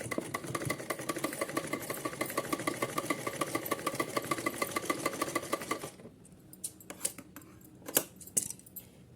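Sewing machine stitches cotton fabric in a fast, even mechanical patter for about six seconds, then stops, leaving a few faint clicks and handling knocks.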